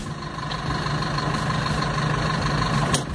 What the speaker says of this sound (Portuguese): Dois motor diesel aqui do lado